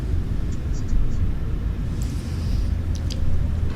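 Airliner engines spooling up to takeoff thrust in a flight simulator, a steady low rumble holding under the cockpit with a few faint high chirps on top.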